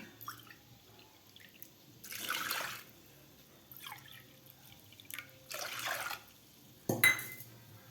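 Toor dal lentils are washed in a pot of water, with several short bursts of swishing and pouring water between quiet stretches of faint drips, close and soft with no talking.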